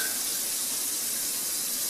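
Water pours down steadily from the garbage disposal side of a kitchen sink, a constant faint hiss and splash without pauses or talk.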